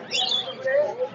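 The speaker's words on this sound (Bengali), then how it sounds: "এগুলো লাভবার্ড ভাইয়া।" Lovebirds at a busy pigeon market give quick, high chirps and tweets in a short close burst, with voices murmuring underneath.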